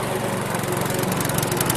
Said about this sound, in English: A lawnmower.